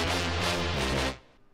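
Synthesized brass section playing high and low parts together with a Serum bass, heard soloed: a dense, loud sustained chord that cuts off abruptly, leaving a brief fading tail.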